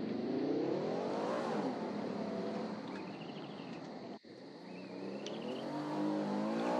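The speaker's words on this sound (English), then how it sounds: "the sound of the car is even better" A car engine accelerating in a Roblox roleplay game, rising revs sweeping upward through gears with a brief dropout midway, then climbing again; a synthetic, steady engine tone with no talk.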